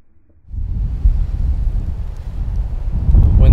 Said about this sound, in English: Wind's blowing now.